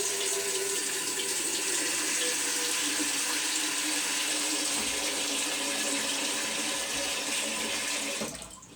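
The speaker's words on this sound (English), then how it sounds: "But fill your pan with cold water." Cold tap water gushes steadily into a cooking pan for tuna pasta bake, a loud continuous hiss and splash that runs unbroken before being shut off near the end.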